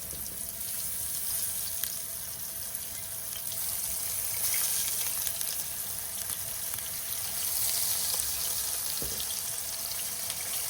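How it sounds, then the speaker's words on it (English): Fish frying in oil over a campfire cook after catching and cleaning, a steady bright crackling hiss that runs close and unbroken throughout, with no talking. "It's got that good fried fish smell though."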